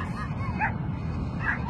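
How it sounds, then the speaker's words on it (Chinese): Dogs by a river give short, yipping barks and a whine in a couple of quick bursts, close and fairly loud over a low background rumble. "狗子冲着河里叫啥呢？"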